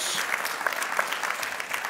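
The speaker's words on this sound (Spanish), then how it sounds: "Dale un fuerte aplauso al Señor" Steady clapping from a church congregation praising the Lord, a dense broadband patter of many hands that holds even and fairly close for about two seconds with no voices over it.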